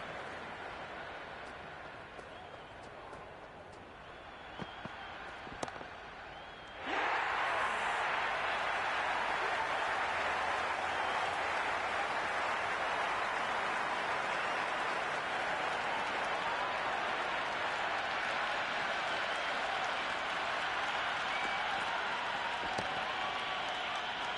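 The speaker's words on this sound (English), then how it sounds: "There is an almost tangible fervour throughout the crowd at the moment." A large cricket crowd in the video game Cricket 26 roars steadily, quieter for the first few seconds, then swelling abruptly into a loud, sustained wall of cheering that holds to the end.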